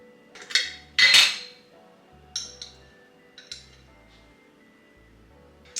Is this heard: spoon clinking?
yes